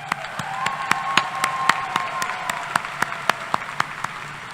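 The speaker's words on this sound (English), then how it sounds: "let's give these new alumni a round of applause." Audience applause for new alumni at a spring university commencement ceremony, a steady wash of clapping from a large crowd with sharp individual claps standing out above it throughout.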